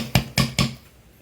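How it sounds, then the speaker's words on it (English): Three crisp hammer strikes on twisted jewelry wire being flattened for a loop headpin, evenly spaced and close, each ringing briefly with no talking. "So I'm just going to hammer this just a little bit, just to flatten this out"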